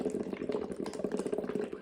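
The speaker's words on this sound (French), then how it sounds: "Ça fait des bulles." Air blown through a straw into water, producing a continuous close bubbling and gurgling, soft and steady with rapid pops throughout.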